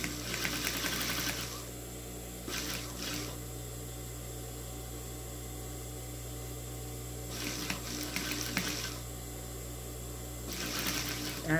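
A domestic sewing machine stitches bias binding onto a cotton dish towel, and its needle is worn and scraping at the tip. The motor hums steadily throughout, with several short louder bursts of fast stitching and no speech.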